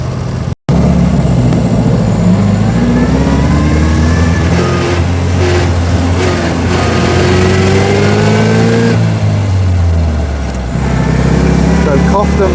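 A 1924 Austin Seven with no synchromesh and uncoupled brakes drives through town streets, its small engine revving loudly and climbing in pitch as it accelerates, with a dip and rise where the gears change.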